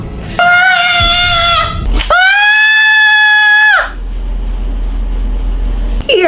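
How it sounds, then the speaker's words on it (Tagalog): A girl screams loudly in a classroom in two long, piercing, high-pitched bursts, the second sustained and steady, with a muffled low rumble of room noise in between and after. "Ba't ka sumigaw ng malakas kanina habang nagkaklase?"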